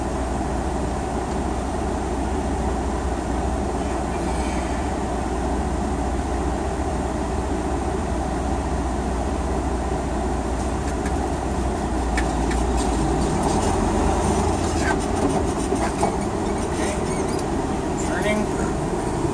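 A tractor-trailer truck pulls away from a stop in fourth gear, its engine building to about 1,000 RPM in a steady low drone heard from the cab, with road and wind noise over it.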